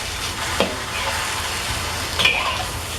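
Meat and sweet soy bean sauce stirred in a hot frying pan, with a soft continuous sizzle and a couple of brief scrapes of a utensil against the pan.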